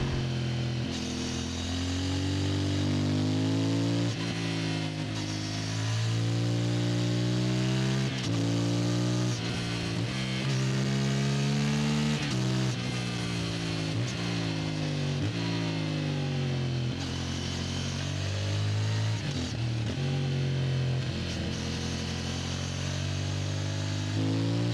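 CF Moto MT450 motorcycle being ridden, its engine droning loud and steady throughout with repeated rises and falls in pitch as it revs and shifts, no voices over it.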